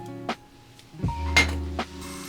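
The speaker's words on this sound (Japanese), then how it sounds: "では、鍋にバターを入れます。" Metal cookware clinks and knocks a few times as butter goes into a pot while preparing a Breton cotriade fish stew, sparse sharp taps with quiet gaps between them.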